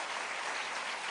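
Church congregation applauding steadily throughout, a dense continuous wash of clapping with no pauses or voices above it.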